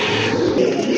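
Pigeons coo in a brief, dense, blended murmur, close and fairly loud, with several birds overlapping in a single continuous burst and no speech.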